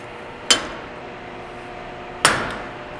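A two-pound C&T solid brass non-sparking hammer strikes a piece of steel twice, two sharp ringing impacts about two seconds apart, each decaying briefly in a quiet room.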